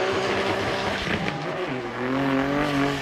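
A Nissan Skyline R34 drift car at a Formula Drift Japan event, its engine roaring at high revs with shifting pitch and tire noise as it slides through the course, loud and close throughout.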